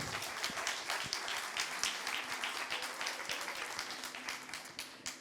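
Applause from an audience at a talk on farm cooperatives in Figeac, France, fairly soft and distant, with clapping that rises and falls throughout.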